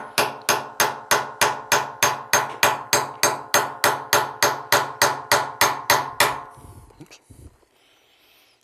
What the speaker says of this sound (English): I'll take my hammer and I'll drive the sight back across